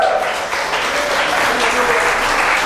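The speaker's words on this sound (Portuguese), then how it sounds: "Quem entende, dê um aplauso a nosso Senhor." A convention audience at a religious gathering in Medellín, Colombia applauds the Lord, sustained crowd clapping filling the hall with a voice faintly carrying underneath.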